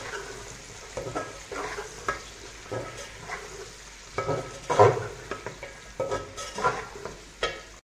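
Chicken sajji masala fries and is stirred in a pan, with steady close sizzling broken by repeated scraping strokes of a spoon against the metal.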